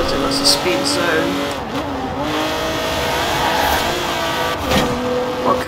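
An Alfa Romeo Stelvio Quadrifoglio engine in the Forza Horizon 4 driving game hums and revs steadily, with brief rises and drops in pitch under continuous talking.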